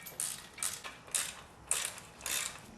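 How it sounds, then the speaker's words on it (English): Ratchet loosening 17mm transmission bolts during a Nissan SR20DET swap in a 240SX, giving about five rhythmic bursts of close, clicking ratchet sound at a steady pace with no talk. "now we're going to remove the top 2 17mm bolts"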